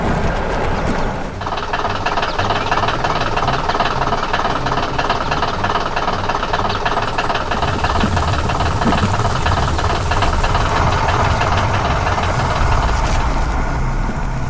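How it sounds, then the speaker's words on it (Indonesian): An excavator engine works hard, running continuously and loudly, with a rattling, knocking mechanical clatter throughout and no speech. "Terdengar suara mesin yang bekerja keras"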